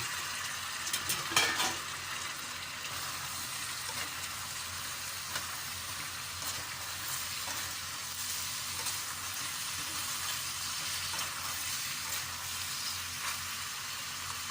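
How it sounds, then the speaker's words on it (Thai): Washed, chopped vegetables stir-fried with minced pork in oyster sauce: a constant loud sizzle with scraping stirring throughout, briefly rattling near the start, no talking. "แล้วเราก็เอาผักที่เราหั่นแล้วก็ล้างนะคะ ใส่เข้าไปเลยค่ะ"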